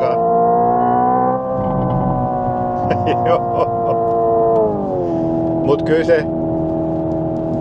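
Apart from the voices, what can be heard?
Hyundai car exhaust popping and crackling from unburnt fuel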